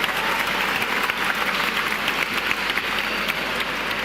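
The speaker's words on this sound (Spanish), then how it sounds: "un aplauso para los tres" An audience at a science outreach show bursts into steady, dense applause, a continuous wash of many hands clapping close and loud for several seconds without pause.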